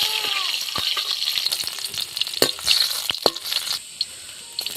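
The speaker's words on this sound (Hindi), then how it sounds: "लहसुन को भी इसमें फ्राई कर लेंगे।" Garlic fries in a pan with a bay leaf for a dhaba-style ridge gourd curry, giving a steady close sizzle broken by sharp crackles and a few spoon scrapes, with no talking.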